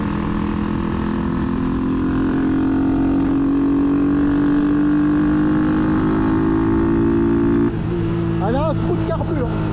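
A Masai 50 Black Road motorbike engine drones steadily while riding on the road, its pitch slowly rising under acceleration. Near the end the engine drops back and someone talks over it.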